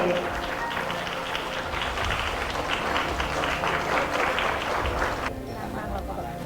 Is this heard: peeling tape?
no